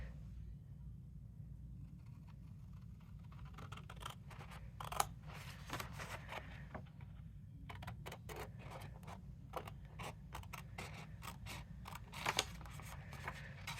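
Scissors cutting a paper card template, quiet intermittent snips and crisp paper crunches in bursts over a low steady background hum.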